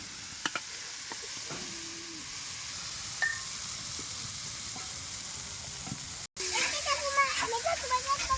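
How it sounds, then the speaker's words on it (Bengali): Spice paste frying in oil over a village wood fire gives a steady broadband sizzle throughout, with a brief dropout near the end before the crackling sizzle returns louder and busier; a voice speaks faintly at moments. "এই যে দেখুন কীভাবে মশলাটা ভাজা হচ্ছে"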